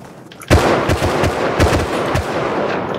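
Rapid video game gunfire, a burst of loud close shots in quick irregular succession with booming low thumps, continuing steadily for a few seconds.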